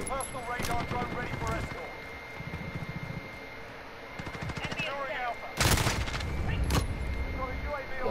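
Rapid automatic bursts from a PP-19 submachine gun in Call of Duty Modern Warfare rattle out in short volleys, one sharply louder near the end, while a player talks over the gunfire.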